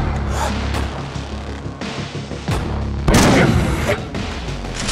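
A single loud gunshot blast from an old-school first-person shooter game rings out midway and decays, following a stretch of dense in-game noise and rumbling.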